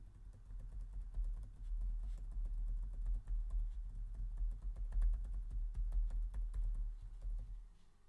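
Laptop keyboard typing, picked up by a HyperX microphone: a quick, continuous patter of light key clicks over a low background rumble, moderately quiet, with no talking.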